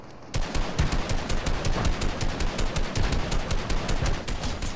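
Rapid, sustained automatic gunfire from a Fortnite match, loud and close, a dense run of shots holding steady for about four and a half seconds with no voices.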